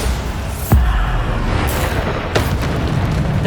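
A Bombarda spell blast from the Hogwarts Legacy video game, a sharp booming impact near 0.7 seconds followed by a second burst, set against a dense, steady bed of game battle noise.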